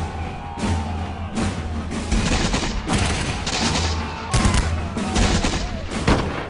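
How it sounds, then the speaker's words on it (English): Musket volleys crackle through a battle reenactment, with dense overlapping shots and booms rolling on steadily and loudly, with no pause. "The Americans are able to fire just a few volleys before they are overrun."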